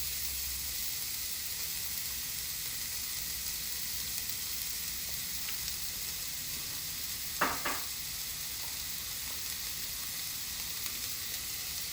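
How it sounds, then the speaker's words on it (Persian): Chopped onions frying in olive oil give off a steady close sizzle and hiss, broken by a couple of brief knocks from stirring near the middle, with no voices. "یه مقدار روغن زیتون میریزم. پیازای خرد شده رو اضافه میکنم."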